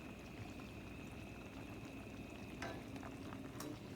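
Heavy cream poured quickly into a simmering pan, giving a steady sizzle and bubbling wash with a brief splashy burst near the end, close and continuous with no talking.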